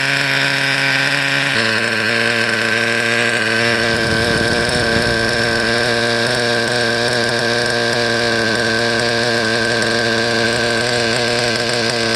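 A small nitro RC car engine buzzes at a steady, high-pitched idle during break-in, loud and close, running continuously with a slight change in tone early on.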